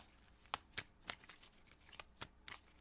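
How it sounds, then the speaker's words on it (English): Cards being shuffled in a series of quick, crisp papery snaps, about eight bursts in three seconds, close and fairly quiet with no talking. "Last shuffle."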